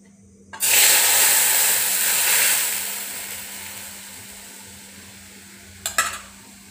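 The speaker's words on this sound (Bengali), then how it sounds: "এই মালাইটা করার জন্য এবার আমি এই দুধটা" Milk poured into melted ghee in a hot pan for kheer malai bursts into a loud, hissing sizzle that gradually fades, followed near the end by a couple of quick metallic clinks of a utensil.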